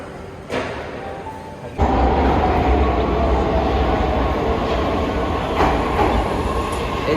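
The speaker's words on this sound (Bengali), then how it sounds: "এই যে আমাদের রেড লাইনের মেট্রো চলে আসছে।" A red line metro train pulls into a Saint Petersburg station. A sharp thump gives way to a loud, sustained rumble and rattle of wheels and carriages that stays close as it rolls in.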